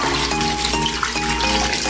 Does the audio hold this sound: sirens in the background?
no